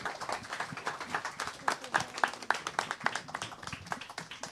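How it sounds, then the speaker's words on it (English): Audience clapping for the panelists at a daytime panel discussion marking the Berlin–Tokyo 30th friendship anniversary, a dense, moderately loud patter of hands with sharper individual claps standing out, steady for about four seconds. "Please give a big applause to the panelists."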